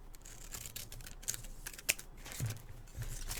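Scissors cut a folded paper template for a journal tag, giving quiet, close snips and rustles at a low level with no speech.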